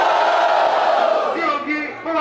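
Rap battle audience at a Brazilian afrobeats battle roaring and yelling to vote, a loud sustained crowd cheer that thins toward the end as individual shouts stand out.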